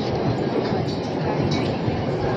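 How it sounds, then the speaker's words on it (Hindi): Steady rumbling ride inside a metro train carrying a family, a dense continuous roar with faint rattling and no clear talk. "अच्छा, हम लोग मम्मी को भी मेट्रो में ले आए हैं"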